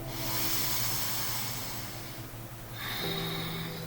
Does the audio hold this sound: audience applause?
no